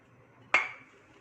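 A single bright spoon clink against a bowl while mixing cake batter with grapes and fresh basil, one sharp ring that fades quickly in an otherwise quiet room.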